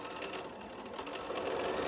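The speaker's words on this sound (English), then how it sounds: "The one thing I do like about this Bernina is that it will not let me air sew" A Bernina sewing machine stitching quilt pieces, a steady fast mechanical whir and needle chatter running continuously at moderate volume, close by with no pauses.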